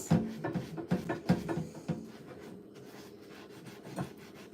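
Scrubbing at a soup spill on a kitchen stove top, with a run of close, loud rubbing strokes in quick succession that slows and fades into quieter, sparse scraping toward the end.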